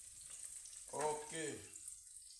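Rice for Haitian-style cooking sizzles faintly as it browns in a pot, a soft, steady crackle with a brief voice speaking over it partway through.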